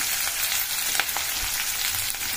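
Onions fry in a pan for Kurnool rava upma, a steady close sizzle and crackle with a few brief stirring scrapes, no voices.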